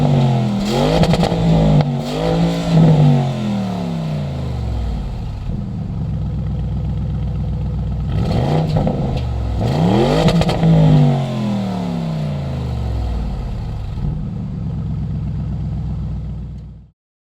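A Porsche Cayenne GTS driving on a normal road, its engine rising through repeated revving bursts and gear changes between steady cruising drone, close and loud, no voices.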